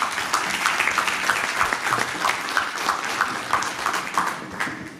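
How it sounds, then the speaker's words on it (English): An audience at an investment congress plenary session gives a round of applause for the panelists. The clapping is full and close, with many hands at once, holding steady before easing off at the end. "A big round of applause to our panelists."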